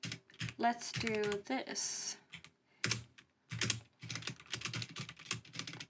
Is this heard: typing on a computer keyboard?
yes